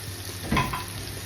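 Chestnut mushrooms fry in a hot mix of butter and olive oil, giving a soft, steady sizzle with one brief stirring scrape in the middle.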